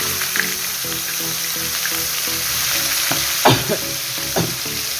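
Garlic and then onion fry in oil in a pan just used for frying boal fish, giving a loud, steady sizzle with scraping stirs and a few spattering bursts close by.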